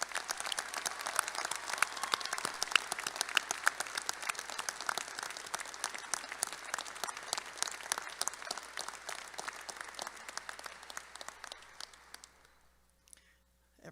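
Steady sustained applause from the audience at the Rhodes State College spring commencement in 2023, a dense crackle of many hands that continues strongly and then fades out near the end.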